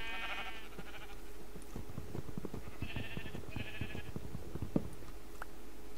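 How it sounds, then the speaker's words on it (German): Sheep bleat in the Minecraft video game, with several wavering calls spread across the stretch: one near the start and a pair of close bleats later, over a steady low hum. "Jetzt können die Schafe nicht mehr rumjammern."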